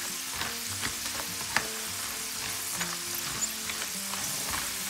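Dried chiles fry in hot oil with a steady, close sizzle and light crackles, briefly stirred, no voices over it.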